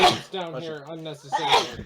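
A close, sharp sneeze bursts out at the start and again near the end, with a person talking in between during a game session.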